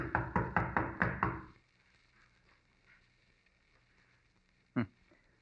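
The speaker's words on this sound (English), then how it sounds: "Pounding on the door isn't going to do any good either." A radio-drama sound effect of a fist pounding on a door: six heavy, evenly spaced knocks, close and loud, then quiet with one more faint thump later.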